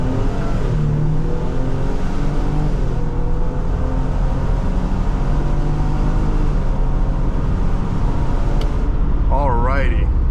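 A 400 hp Ford Police Interceptor Utility EcoBoost SUV accelerates hard from 0 to 60, its engine note climbing steadily through the gears, loud and continuous from inside the cabin, with a voice briefly heard near the end.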